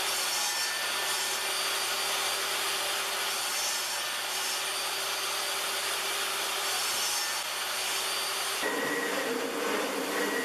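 A saw cuts steadily through wood for hourglass-shaped wooden legs of a live-edge coffee table, a continuous loud rasping grind that shifts in tone near the end, with no talking.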